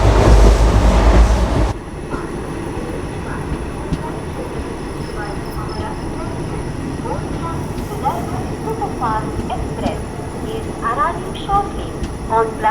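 Inside the moving Vidarbha Express passenger train, a steady rumble and rhythmic clickety-clack of wheels on rails fill the carriage, after a loud burst at the start, with faint voices beneath.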